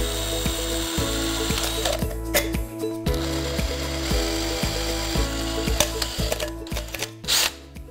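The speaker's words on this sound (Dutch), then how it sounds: "En dan moeten we enkel nog de gaatjes erin boren." A drill bores small holes into a tin can to make a candle holder, producing rapid ratcheting clicks and grinding bursts that start and stop in short runs, close and fairly loud with no speech.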